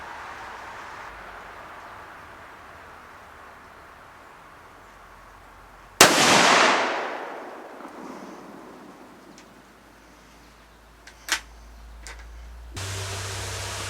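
A single loud 30-06 rifle shot cracks out at a rustic log cabin deer hunting camp and echoes away over several seconds, followed later by faint clicks and handling noise.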